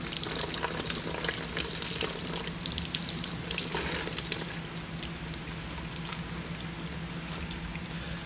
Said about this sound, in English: Water is going to drip out of the thing as it's relieving that pressure.